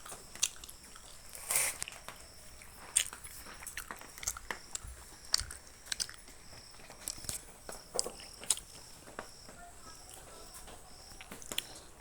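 Chewing on fried sweet gulgula fritters, with faint intermittent bites and crunchy mastication clicks scattered through a quiet room, close to the mic, no talking.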